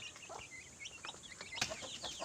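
Chickens and chicks cluck and peep close by in a farm setting, a busy scatter of short calls overlapping without pause at fairly low volume.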